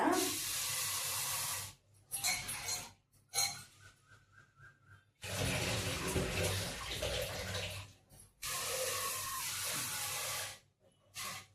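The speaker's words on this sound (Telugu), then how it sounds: "పప్పు వేసుకోవాలి, పప్పు కొంచెం కడుక్కోవాలన్నమాట" Running tap water splashes as lentils are rinsed for palak pappu, several loud gushing bursts broken by short pauses and quieter clinks and handling in between.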